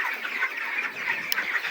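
Broiler chickens crowd a farm shed during hot weather with the power out. A dense chorus of soft clucks and murmurs continues steadily and fairly close, with no voices.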